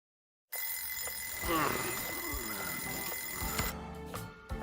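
Alarm clock in the video game Lost Judgment rings after a brief silence, a continuous, bright, steady electronic tone that carries on for several seconds before cutting off into light game sounds.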